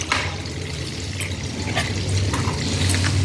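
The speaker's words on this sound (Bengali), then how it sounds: "এখানে একটু তেলের মধ্যে বাটারটা দিয়ে দিলাম।" Butter sizzling in hot white cooking oil in a pan, a steady close bubbling hiss that holds throughout with no talk.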